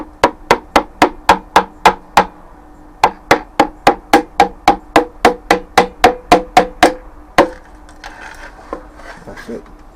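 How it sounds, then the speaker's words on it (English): Evenly spaced sharp knocks from the back of a mallet tapping a piston with rod into an Audi B5/C5 A6 2.7T engine block, about two dozen loud close strikes in two runs, followed by softer clinks and handling. "we're gonna use the back of our mallet and hit the piston slowly into the block"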